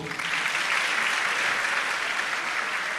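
Dense, steady applause from a lecture audience at the KNUST RP Baffour Memorial Lecture fills the whole stretch at even loudness, with no voices over it.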